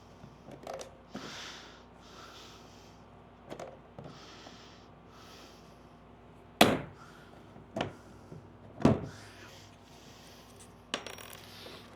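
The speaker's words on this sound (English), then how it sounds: "grab my pop rivet gun that I put over here. And pop rivet them down." A pop rivet gun fastening a kayak seat, several sharp metallic snaps spaced a few seconds apart, with softer handling clicks and rustles between them in a quiet room.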